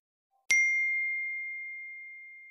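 A single bright phone text message notification ding strikes clearly and then rings out in a long, smoothly fading tone, with silence around it.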